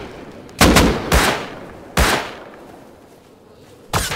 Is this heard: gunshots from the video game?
yes